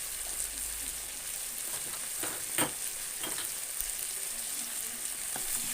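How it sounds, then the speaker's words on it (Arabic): Sausage with dried coriander sizzling steadily in a hot pan while being stirred, a continuous close frying hiss broken by occasional scraping taps from the utensil. "ونبتدي برضه ان احنا نقلب"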